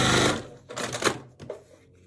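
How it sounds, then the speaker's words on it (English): A sewing machine stitches Tula Pink butterfly quilt block pieces, running in a loud steady burst at first, then in shorter broken runs that stop and start. No talk. "This is the second step that I'm sewing right here, or just sewed right now."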